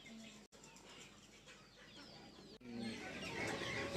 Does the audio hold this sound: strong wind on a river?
no